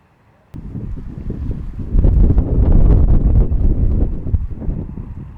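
Strong wind blows at a lakeside fishing spot, a loud rushing roar buffeting the microphone that starts abruptly and swells in gusts.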